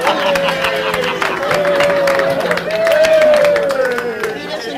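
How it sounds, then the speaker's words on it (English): A senior center audience at a waffle breakfast fundraiser claps and cheers loudly and continuously, with a whistle rising over the applause. "And the crowd roared."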